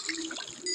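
A brief watery splash and trickle as water is placed in Minecraft, a single short gush lasting under a second.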